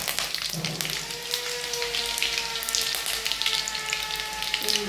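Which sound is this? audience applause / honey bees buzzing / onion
onion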